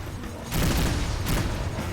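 Space combat in Rebel Galaxy Outlaw: an incoming missile bursts into a loud rumbling explosion, followed by a second roaring blast moments later, both heavy and close with no voices.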